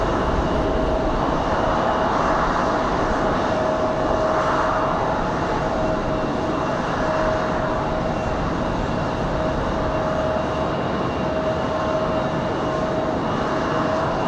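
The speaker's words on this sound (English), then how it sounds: "We've also got a CRJ you guys can hear firing up." A CRJ jet spooling up at Raleigh-Durham International Airport, a steady distant roar with a constant whine, filling the whole stretch without any break.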